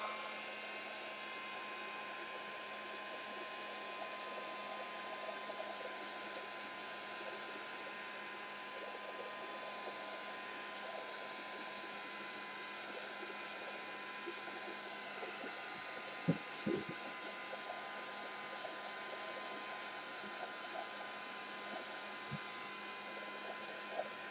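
A hair dryer blows steadily to dry shimmery craft paint, a constant close whooshing drone throughout with a few faint knocks near the end.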